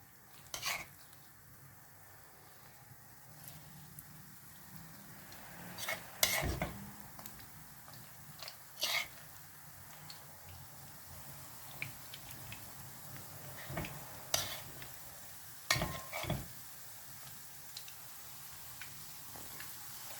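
Rose-shaped dough fries in hot oil in a pan, giving a soft, steady sizzle under scattered sharp clicks and scrapes of utensils, with no one talking.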